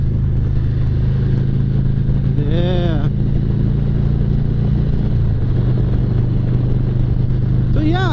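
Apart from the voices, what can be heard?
motorcycle exhaust roar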